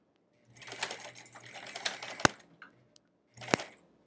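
A domestic sewing machine stitching a foundation paper-pieced quilt block, run with a heavy foot on the pedal: a fast buzzing burst of about two seconds, a sharp click, then a second short run, close and fairly quiet.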